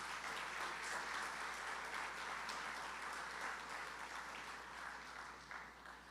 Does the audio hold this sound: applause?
yes